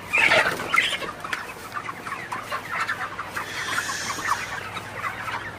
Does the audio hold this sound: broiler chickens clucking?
yes